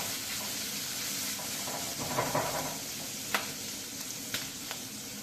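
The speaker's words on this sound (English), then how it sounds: "So we have our lardons into a nice hot pan, and just crisp them up" Bacon lardons fry in a hot pan with a steady, moderate sizzle, broken by a few sharp pops and crackles.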